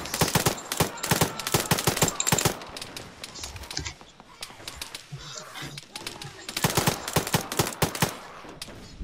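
Heavy video game gunfire rattles in rapid machine-gun bursts, loud and close, pausing midway before another dense volley, with a voice talking over it.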